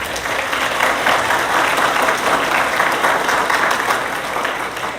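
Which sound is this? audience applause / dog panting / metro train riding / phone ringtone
audience applause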